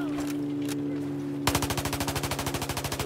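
Automatic rifle fire in Battlefield 4 on the Golmud Railway conquest map, a steady burst of evenly spaced, punchy shots starting midway and continuing loud and close after a quieter opening.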